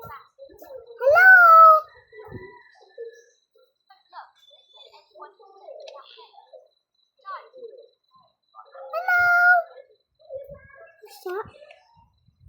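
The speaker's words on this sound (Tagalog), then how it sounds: "Pusa, pusa, pusa!" A cat meows twice, each a clear rising-and-falling cry several seconds apart, with a person's voice calling out and scattered background noises between the cries.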